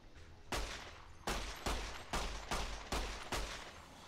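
Gunfire in the video game Fallout New Vegas, about seven loud, sharp shots spaced roughly half a second apart, each with a short decaying tail, alone without talk.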